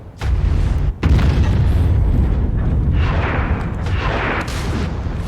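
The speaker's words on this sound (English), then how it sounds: "Incoming missile." Incoming missile explosions in MechWarrior 5: Mercenaries, a heavy rumbling boom after a short gap, then rolling blasts and crackling debris, loud and close throughout.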